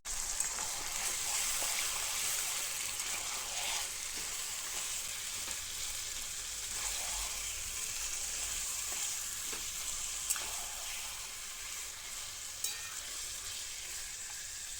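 Chopped onions frying in a pan for a spicy mutton curry, a steady close sizzle with a bright hiss and a few light clicks of stirring, no voices.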